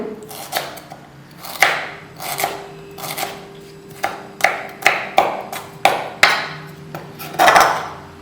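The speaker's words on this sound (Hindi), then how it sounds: "इस तरह ये अदरक की हम छोटे छोटे बारीक काट लेंगे ताकि ग्राइंड करने में आसानी हो।" A knife finely chopping ginger on a board, a run of sharp, close knocks in uneven bursts, some quick and clustered, with no talk over them.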